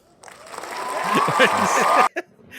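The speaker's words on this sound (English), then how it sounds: "there's applause that just came through" Applause triggered from an audio board swells up under a podcast's talk, with a voice speaking over it, then cuts off abruptly, followed by a short blip and the hosts' voices.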